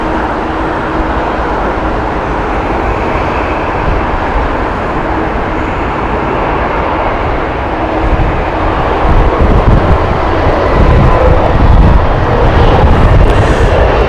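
Loud, constant roar of an airliner on the Glasgow flight at Heathrow Airport, a broad rumbling wash with heavy wind buffeting the microphone and a slight swell toward the end.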